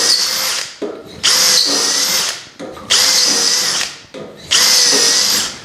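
A power drill whirs in three loud bursts, each spinning up sharply and grinding into wood of a bedside table drawer assembly, separated by short pauses.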